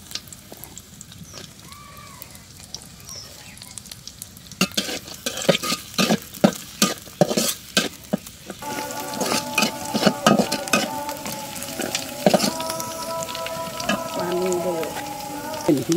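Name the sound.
garlic, green chilies and chopped onion frying in a pan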